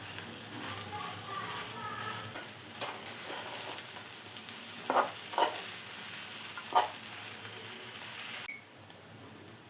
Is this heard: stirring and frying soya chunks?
yes